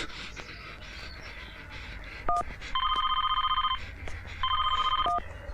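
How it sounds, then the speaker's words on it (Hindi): A telephone rings in two electronic trilling bursts, about a second each, preceded by a couple of short beeps, moderately close over a faint background hum. "AD pick up the phone."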